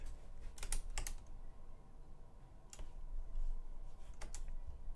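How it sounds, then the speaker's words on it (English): Clacking on a computer keyboard during a gaming scrim, short bursts of quick keystrokes separated by pauses, fairly faint and close over a low background hum, with no talking. "Oh shit, I'm typing."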